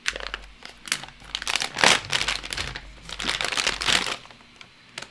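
A plastic filament storage bag being handled and unpacked up close, with repeated crinkling and rustling bursts in an irregular rhythm, no talking.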